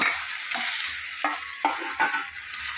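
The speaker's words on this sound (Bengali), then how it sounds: "দিয়ে ভালো করে মশলার সাথে নাড়াচাড়া করবো" Fried cauliflower florets are stirred into oily, cooked-down spice paste in a pan, with a steady sizzle and about five close, rhythmic scraping strokes.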